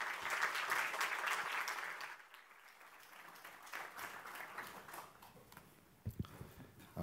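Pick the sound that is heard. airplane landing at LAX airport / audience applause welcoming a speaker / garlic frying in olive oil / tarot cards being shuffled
audience applause welcoming a speaker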